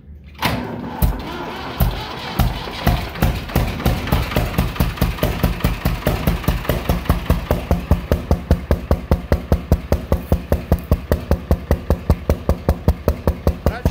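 Case 1194 three-cylinder tractor engine with no power, smoking and backfiring, running close by with a loud, uneven knock and rattle that settles into rapid, evenly spaced clanking beats throughout.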